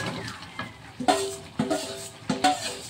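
Fried jackfruit and potato sizzle in a pan while a spatula scrapes and stirs in several distinct strokes, close by and fairly loud.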